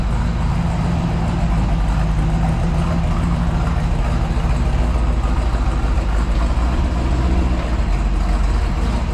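A 1969 Camaro on a hoist runs its engine while the rebuilt 4-speed is worked through the gears, a close, continuous low rumble with a steady throb and no pauses or clear revving.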